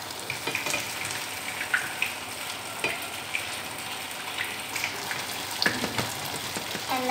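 Tofu fries in very hot oil with a loud, close sizzle and crackle, broken by occasional sharp pops and light utensil clicks, with no speech.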